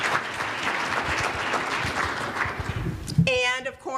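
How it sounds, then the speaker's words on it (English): A room audience applauds mentors at a university innovation challenge event, with dense, steady clapping that fades away before a voice begins speaking. "would you please stand up so that we could give you a round of applause?"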